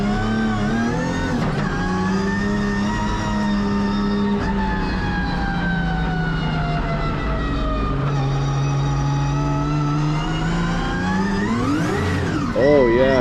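Nissan 180SX lapping a race track, heard from inside with a loud engine note that holds steady, dips and swells through gear changes, then rises sharply to a high rev near the end.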